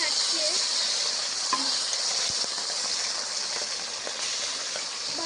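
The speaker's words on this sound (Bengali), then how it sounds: "এই দেখো আমার মা এবার কড়াই তেল ঢালছে মাছগুলোকে ভাজবে বলে।" Fish heads frying in hot oil in a wok, giving a constant bright sizzling hiss with a few small pops, close and steady for the whole stretch.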